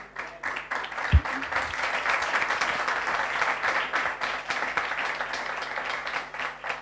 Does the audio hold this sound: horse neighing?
no